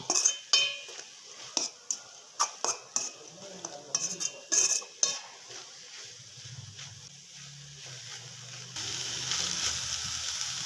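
Spatula stirring and sautéing food in a pan, with repeated scraping and clinking strokes for about five seconds, then a steadier low sizzle as the cooking continues.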